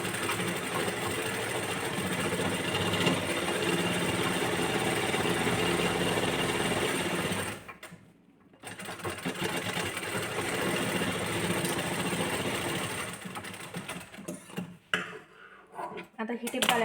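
A sewing machine runs steadily as it stitches a tuck into a blouse strip, a close, busy mechanical whir. It stops briefly, then restarts in shorter bursts, and nobody speaks.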